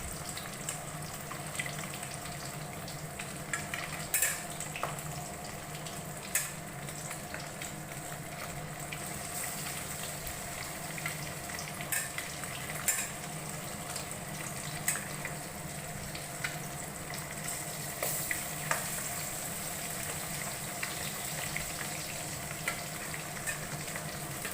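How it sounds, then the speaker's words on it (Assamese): Fish fries in a pan over low-medium heat, a steady close sizzle with soft bubbling and occasional small pops and spatters scattered through a long, even stretch, no one talking. "এনেকৈ অলপ সময় ফ্ৰাই কৰি থাকিব।"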